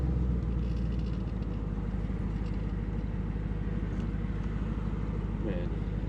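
Ford F100 truck with an 807 hp Hellcat engine swap, its engine and exhaust rumbling as a steady, low, throbbing drone from inside the cab, with people talking over it.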